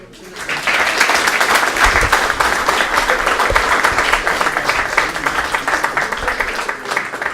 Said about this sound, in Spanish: primero un fuerte aplauso a todos los chiquillos